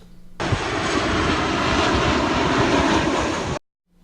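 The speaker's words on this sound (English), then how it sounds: "the planes are going to be flying quite low when they take off, and certainly when they're coming in for a landing. So they make a lot of noise" An airplane flies low overhead while taking off near San Diego airport. Its loud, broadband engine roar holds steady for about three seconds and then cuts off abruptly.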